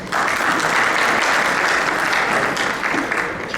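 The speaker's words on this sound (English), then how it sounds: "Please big round of applause." A crowd at a Pakistani-descent physicians' society annual meeting breaks into loud, sustained applause, dense clapping that holds steady for several seconds.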